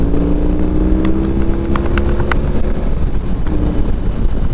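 A BMW R18 motorcycle rides along on a chilly day, its engine droning loud and steady close to the microphone, with wind rushing over it throughout.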